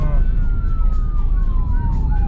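Ambulance siren passing along a road by a bridge construction site, its wailing tone sliding steadily downward as it goes by, loud over constant traffic rumble.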